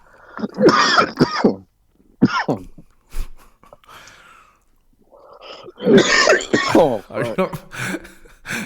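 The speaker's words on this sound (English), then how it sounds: "Coughing right into my fucking eardrums." Close-up, harsh bursts of coughing and throat clearing, several irregular fits separated by short quiet gaps.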